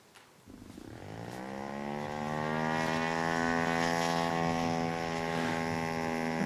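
A scaled-down unmanned aircraft on a flight test run, starting with automatic taxiing down the middle of a runway. A droning engine and propeller buzz swells in the first seconds, then holds a steady, fairly loud pitch.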